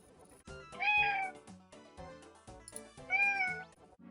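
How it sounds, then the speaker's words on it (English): Two close meows from house cats, each drawn-out and clear, separated by quiet clicks and small household noises. "Step away to feed the cats really quick."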